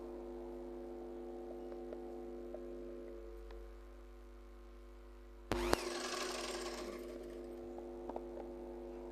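A sewing machine stitches a seam, at first a faint steady hum with a mains buzz, then a loud burst of rapid stitching for a few seconds that settles into a quieter running whir.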